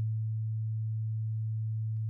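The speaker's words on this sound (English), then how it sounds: "I'm going to just let you hear a sine wave" A pure sine wave tone at the note A holds steady and alone, one continuous unwavering pitch at even loudness from start to finish.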